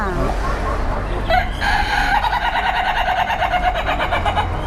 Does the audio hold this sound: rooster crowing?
yes